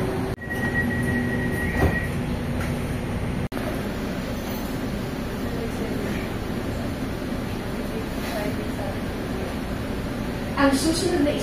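Manila LRT light rail train ride with a steady, loud rolling rumble of the car throughout, a brief squeal near the start and a short cut midway, while people talk faintly under the train noise.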